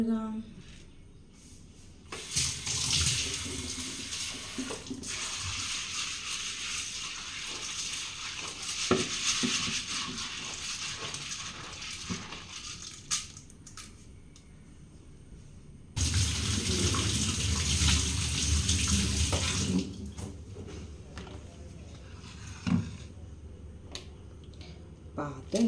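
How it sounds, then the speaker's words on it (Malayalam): Lentils are washed under a running kitchen tap, giving two long, loud stretches of gushing water separated by a quieter gap, with handling clatter and some talk in between. "നമുക്ക് പരിപ്പ് കഴുകാം."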